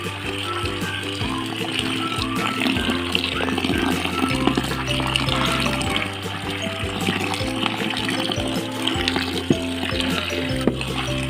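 Water splashes and trickles as it is mixed into wet cattle feed with a little salt, a continuous liquid sloshing under a steady low mechanical hum with faint voices in the background.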